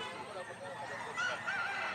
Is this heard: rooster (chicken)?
yes